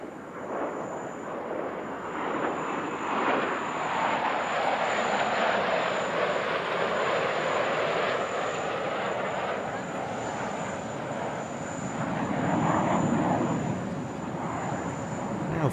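Jet aircraft with afterburner engaged performing a display at the Dubai Airshow 2023, a loud sustained roar that swells and recedes as it passes, with a steady high whine running throughout.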